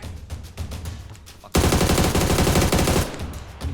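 Automatic gunfire in the battle-royale video game PUBG erupts loud and close in a dense sustained burst after softer background noise, rattling steadily for about a second and a half before easing off.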